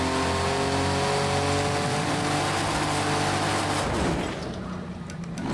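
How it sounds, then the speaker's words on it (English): A flat-six pancake engine with a VW-like tone revs hard in the Project Cars 2 racing game, a loud sustained drone rising in pitch, then cutting off and tailing into quieter rumble. "There's a certain VW sound with the pancake motor, which even in a 911 is basically just a six-cylinder VW."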